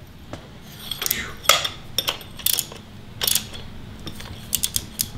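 Torque wrench ratcheting while tightening a rocker bolt on a Jeep Wrangler 3.6 litre engine: bursts of sharp metallic clicks in irregular runs, close and fairly loud, with no talking.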